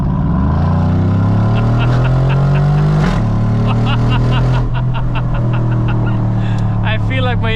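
Mercedes-Benz G63 AMG 2016 with its 5.5L biturbo V8, its exhaust roaring loud and close as the engine revs up, drops back, then climbs again, with someone talking over it throughout.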